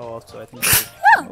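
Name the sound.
sneeze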